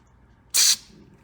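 A single short hiss of carburetor cleaner sprayed into the engine of a Honda pressure washer, a loud close burst lasting about a quarter second over quiet surroundings.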